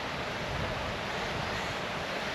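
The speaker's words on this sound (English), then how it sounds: "It's a lovely waterfall" A waterfall on a wild camping hike at Craig Cerrig Gleisiad gives off a steady, unbroken rushing roar, fairly close and even throughout, with no voices.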